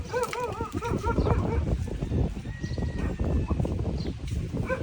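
Mares moving about on a farm, hooves clip-clopping in a steady scuffle of close, uneven knocks, with a few higher calls sounding near the start.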